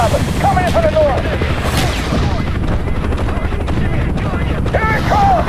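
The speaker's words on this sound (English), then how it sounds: "MIA attack helicopter! Coming in from the north!" Attack helicopter in the Vietnam-era war video game Call of Duty: Black Ops, its steady rotor drone loud throughout amid gunfire, explosions and background battle noise, with voices shouting over the chaos.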